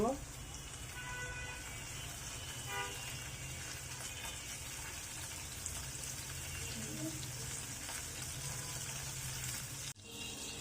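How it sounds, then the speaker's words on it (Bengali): Chopped garlic frying in a pan until lightly browned, a faint steady sizzling hiss with a low hum underneath, continuous throughout without clear stirring strokes. "রসুনটাকে হালকা ব্রাউন করে ভেজে নিব"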